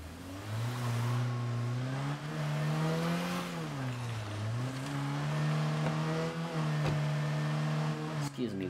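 A car in the zombie survival game State of Decay 2 drives with a steady engine drone that rises and falls as it revs, continuous and fairly loud throughout, with people speaking over it.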